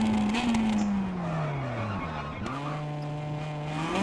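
Ford Puma WRC rally car braking hard into a hairpin on Monte Carlo tarmac in WRC Generations, with a loud continuous tire skid and engine note dropping in pitch, close and steady throughout.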